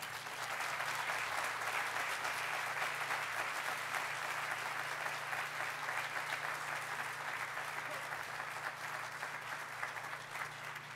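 An audience at a groundbreaking ceremony applauds steadily for the whole stretch, a dense even wash of many clapping hands heard at a distance with a faint low hum underneath.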